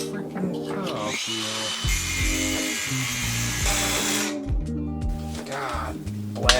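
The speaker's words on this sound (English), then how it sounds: "I was able to slip the old Sawzall in there" A reciprocating saw buzzes steadily while cutting welds off a steel tank, a close, harsh power-tool drone with shifting pitch as the blade bites, and a voice speaking over it.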